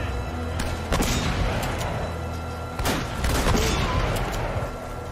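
Several sharp, booming shotgun blasts in the video game Uncharted: Drake's Fortune ring out a second or two apart over a rumbling, noisy game background.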